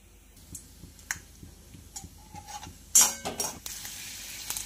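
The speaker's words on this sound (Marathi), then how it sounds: "कढईमध्ये मी 2 ते 3 चमचे तेल घातलेले आहे आणि छानपैकी असे आपल्याला शेंगदाणे आधी भाजून घ्यायचे आहेत" Peanuts roast in two to three spoons of oil in a kadai, a spoon ticking and stirring against the metal, then a louder burst of sizzle and scraping clatter toward the end.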